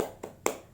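Two sharp claps spaced about a quarter second apart from children doing the rhythmic tepuk semangat cheer in a third-grade primary school class, crisp and fairly close, with no voices over them.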